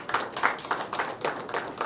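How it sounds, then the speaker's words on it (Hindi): Audience at a business awards gathering claps in uneven, rhythmic bursts for nearly two seconds, moderately loud and close, with no speech over it. "जोरदार तालियों की गड़गड़ाहट हो जाए।"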